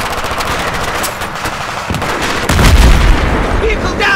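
Rapid machine-gun fire and heavy blasts fill an ambush in the video game Battlefield 3, loud and dense throughout, with a deeper boom near the end.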